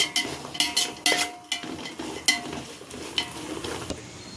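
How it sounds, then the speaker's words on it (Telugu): Semiya vermicelli fries in a pan while being stirred, giving a soft, continuous sizzle broken by repeated sharp clinks and scrapes of a spoon against the metal. "ఒక 5 నిమిషాలు ఫ్రై చేసుకోండి గైస్, అంటే కొంచెం ఎర్రంగా వచ్చేదాకా"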